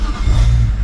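A BMW N54 engine fitted with hybrid turbos and B58 coils fires up on a cold start, a loud, close low engine rumble rising briefly in under a second.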